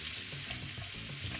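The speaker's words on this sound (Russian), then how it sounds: "И все слегка поджарим." Onion and chicken fry with a knob of butter in a pan, giving a steady close sizzle with faint stirring clicks and no speech.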